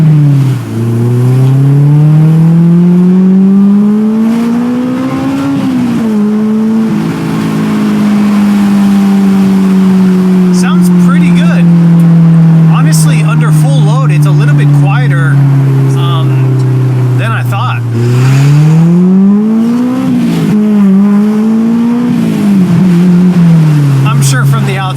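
A Honda S2000 engine with an aftermarket exhaust revs hard into VTEC at a race track, its pitch climbing, dropping and climbing again over several long pulls, loud and close with wind noise.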